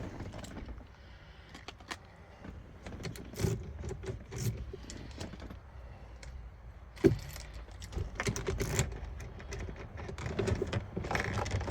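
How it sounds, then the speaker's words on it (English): A bunch of car keys for a Mercedes-Benz 240D jangles in intermittent bursts over about twelve seconds, close and fairly loud, with metallic clinks and rattles and a sharper clack near the middle; no speech. "I used the wrong key, so I'll fiddle with these keys"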